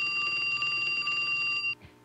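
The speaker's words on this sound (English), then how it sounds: "Answer the phone." A telephone rings in a morning radio studio, a steady electronic trill with bright bell-like tones that holds for nearly two seconds and then cuts off abruptly, loud and alone without speech.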